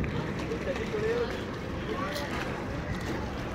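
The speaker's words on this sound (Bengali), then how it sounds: "আর এই যে বোটটা আসছে" A ferry boat on the Ganges river near Howrah Bridge, with steady broad engine and water rumble in the background and wind on the microphone, under a crowd's murmur.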